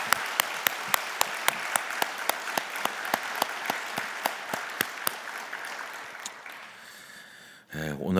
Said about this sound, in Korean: 우리 감사하고 축복하는 박수를 한번 하겠습니다